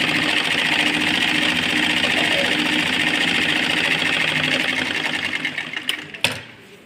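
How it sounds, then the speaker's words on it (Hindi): A sewing machine runs steadily, stitching a curved seam on the pocket of a ladies' pyjama. The whirring is continuous and close for about six seconds, then slows and stops with a couple of clicks at the end. "देखिए इसको हम गोलाई में सिलाई लगा के आ जाएंगे।"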